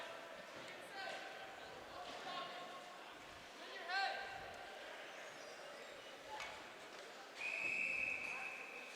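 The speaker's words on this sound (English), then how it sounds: "a whistle will come with a Vulpes save" Referee's whistle blowing in an ice hockey game between Plainedge and Valley Stream, a sharp shrill blast near the end set against arena crowd noise and scattered thuds, with commentators talking throughout.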